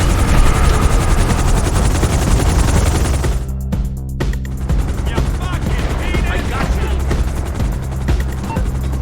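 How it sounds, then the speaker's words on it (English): A police helicopter in Grand Theft Auto Online gives a loud, continuous rotor thrum, with rapid gunfire-like bursts mixed into the dense game noise throughout. "You see the police chopper up there?"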